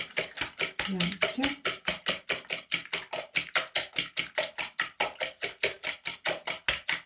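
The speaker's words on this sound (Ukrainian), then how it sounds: "Так, збиваємо яйця." Eggs are beaten in a bowl with a quick, steady run of light clicking taps, fairly faint and evenly paced, with a brief voice heard once in the middle.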